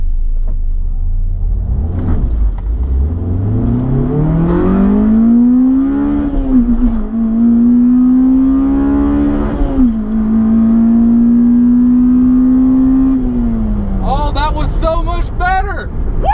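Acura RSX Type-S launching off the line in a drag race, engine revving up in a loud rising whine that holds steady through the gears, near and dominant, ending with a shift and fading as the car pulls away.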